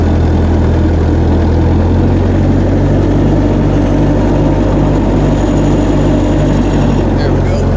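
A cheap refurbished tractor running steadily at night on a test drive, with a loud, close, low rumbling drone held throughout.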